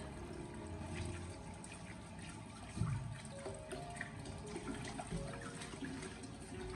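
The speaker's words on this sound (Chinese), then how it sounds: "紧接着再用自来水将丝瓜给它清洗一下" Luffa gourd, its ridges scraped off, is rinsed under a running kitchen tap, giving a steady close splashing rush of water that lasts throughout with no talking.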